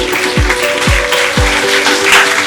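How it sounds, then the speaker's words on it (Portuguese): An audience at a conference gives loud, sustained applause to welcome a keynote speaker, a dense unbroken roar of clapping with a few low thumps near the start. "com um forte aplauso"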